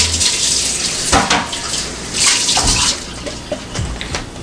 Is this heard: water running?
yes